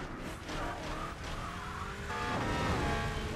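Classic Hot Rod racing in Burnout 3: Takedown on PS2, a steady engine roar with tire squeal and skidding, loud and continuous with a rising build toward the end.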